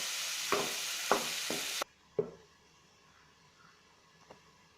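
Breadfruit thoran cooks in a pan with a bright sizzling hiss as a utensil scrapes and stirs in a few strokes; the sizzle cuts off abruptly, leaving quieter clinks of stirring.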